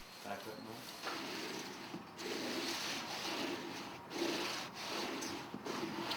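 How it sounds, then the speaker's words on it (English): A wood float presses Ditra membrane down into thinset on a substrate, giving steady scraping, rubbing strokes in several continuous passes with brief pauses between them, close and moderately loud. "Using a wood float or the flat side of the trowel, Ditra is pressed firmly on the substrate"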